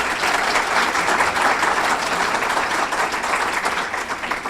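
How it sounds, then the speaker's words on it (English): Dense, steady applause from an audience at a Kiwanis community event, honoring a man after a theater camp flash mob surprise; loud and sustained throughout with no break. "Let's give him a round of applause."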